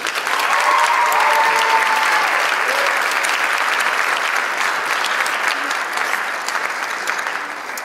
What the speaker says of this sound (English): could you join me in giving a warm, welcoming, hearty round of applause to all the candidates you see?